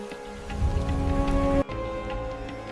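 Steady rain falling, a dense, even patter heard up close with no voices, cut off abruptly partway through before continuing slightly softer.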